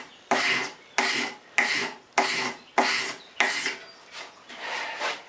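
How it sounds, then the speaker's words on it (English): A paint scraper is pulled hard across the wooden seat of a stool being carved by hand, giving about seven rhythmic rasping strokes, each a sharp scrape that fades before the next, close and clear. "Get some serious power on a paint scraper. Look at the shavings."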